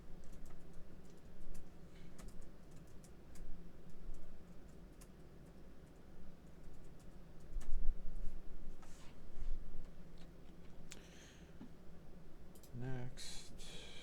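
Steady keystrokes on a computer keyboard as a serial number is typed in during FortiGate device registration, close and fairly quiet, in uneven bursts with brief pauses and a low background murmur.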